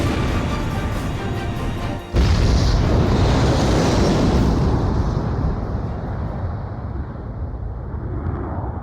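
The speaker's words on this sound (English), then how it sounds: "Mass driver hit by cruise missile." A cruise missile slams into a mass driver in the Ace Combat 5 video game: a sudden loud, crashing blast bursts out after a steady rumble, then rolls into a long, deep, fading roar.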